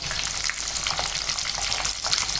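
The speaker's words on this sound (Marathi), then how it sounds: "आणि हिरव्या मिरच्या टाकायच्या" Cut green chillies fry in hot oil in a wok over a bed of mustard seeds and curry leaves, a loud continuous close sizzle with constant crackling spatter and no voices.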